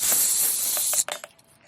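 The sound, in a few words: air hose being connected to Bostitch pancake air compressor, hiss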